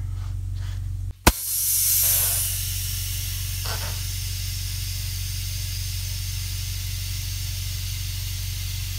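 A short sharp burst followed by a brief rush of compressed air hissing into a beadlock wheel on a Polaris RZR Pro XP as the tire bead seats, fading into a low steady hum.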